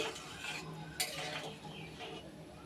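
Boiled red lentil dal stirred in a pot, a faint wet churning with a sharp metallic clink of spoon against the rim, quiet and close.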